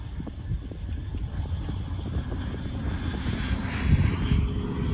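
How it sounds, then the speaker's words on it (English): An aircraft coming in to land gives a steady, distant engine drone that swells a little louder toward the end, heard alone outdoors at night. "There's an aircraft landing."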